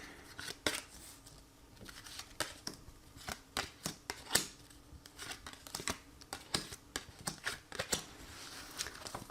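Tarot cards are handled and shuffled at close range, a quiet run of crisp, irregular riffling snaps and soft slides with no talking.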